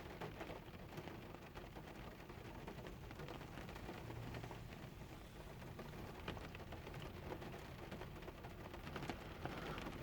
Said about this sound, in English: the sound of rain on the roof